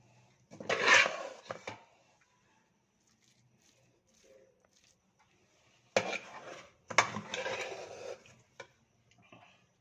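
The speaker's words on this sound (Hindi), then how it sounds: "ये देखिए मैंने हलवा निकाल दिया डिश पे" Metal spoon scraping and clinking against a pan and serving dish as carrot halwa is spooned out, a few short close bursts of clatter separated by quiet gaps.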